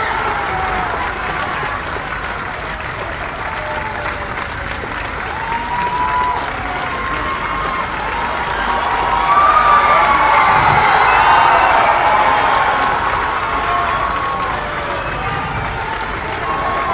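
A large crowd at a political gathering applauds and claps continuously, loud and close, swelling midway with some cheering and shouts mixed into the steady clapping.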